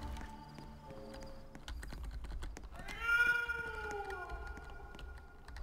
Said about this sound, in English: Oh, that's the round change noise. It's him meowing.